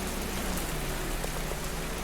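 Steady, dense rainfall hissing evenly on a surface, with scattered drop patters throughout and no voices.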